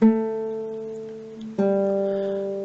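A single plucked guitar note rings out and slowly decays, then is plucked again about halfway through and sustains clearly on its own.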